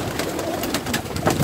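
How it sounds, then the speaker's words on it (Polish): Fancy pigeons coo in low, soft throaty bursts, several birds close by at a feeder, with light fluttering and rustling throughout. "Gołębi jest, jak mówiłem"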